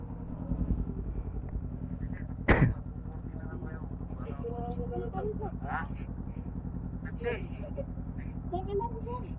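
A parked motorcycle's engine idles steadily near a police station in Baguio, a low continuous rumble throughout, with a brief sharp click or clank partway and voices chatting faintly over it.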